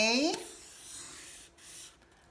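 A pen scratches out handwritten letters, with a short burst of voice at the start followed by soft, uneven scribbling strokes.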